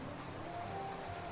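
Rain in the farming game Clanfolk makes a faint, steady hiss of rainfall with no breaks, heard alone without any voices.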